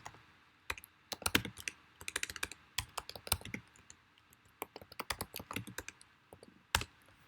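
Rapid bursts of keystrokes on a computer keyboard as a password is entered at a login page, close and crisp in uneven clusters with brief pauses between runs.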